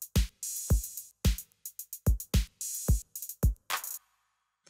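A drum break chopped by a gate effect plugin in Ableton, producing short, sharply cut hits in a stuttering rhythm of about a dozen bursts, with clipped cymbal wash and punchy low thumps, ending in a brief noisy tail.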